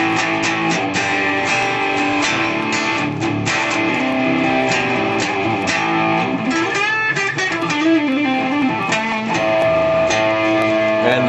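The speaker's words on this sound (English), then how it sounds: "Let's use the MXR distortion to get kind of that classic sound." An electric guitar plays through an MXR distortion model driving a clean Plexi amp model on a Digitech RP 250 multi-effects unit. It produces a loud, continuous run of thick distorted notes and chords with no pauses.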